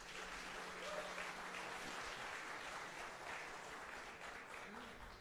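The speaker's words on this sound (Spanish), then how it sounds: "Gostaria de uma grande salva de palmas para o Alan Hoffman" Audience applause at an innovation forum for startups and industry: a dense, sustained wash of clapping from a large crowd that holds steady for several seconds, with faint talk underneath.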